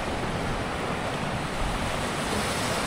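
Sea waves wash against a rocky shore in a continuous broadband rush, with wind buffeting the microphone and no distinct crashes, just a steady even surge.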